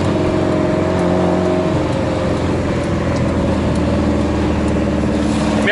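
Race car engine at the Classic Days GT Young session, a steady loud motor drone with low harmonic tones throughout, no talk.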